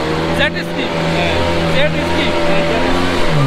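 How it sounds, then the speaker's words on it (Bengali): A jet ski engine runs steadily at sea off Cox's Bazar, a continuous droning hum with shifting tones, heard up close and loud throughout with occasional voices in the background. "আমাদের জেট স্কি অলরেডি রানিং হয়ে গেছে"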